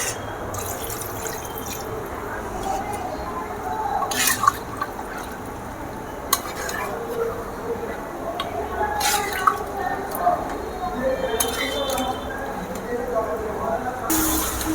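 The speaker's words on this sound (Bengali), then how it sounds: "এবার আমি জল দিয়ে দেবো।" Water is poured into a pot of cooking chicken curry, a soft trickling splash that rises and falls over steady background noise, with a few brief louder splashes along the way.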